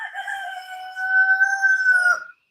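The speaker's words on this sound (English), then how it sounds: "He's a good chicken." A hen gives one long, drawn-out call close by, rising and holding for about two seconds before cutting off, with nothing else heard.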